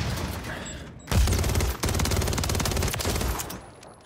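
A burst of automatic gunfire in Call of Duty MW3, rapid shots fired close and loud for about two seconds, then trailing off into quieter game sounds.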